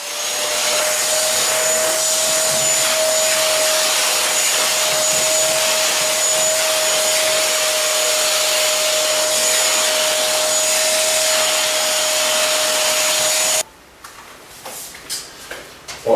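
A Kirby vacuum cleaner runs loud and steady with a constant high whine for most of the time, then cuts out abruptly and leaves a few faint clicks and handling noises.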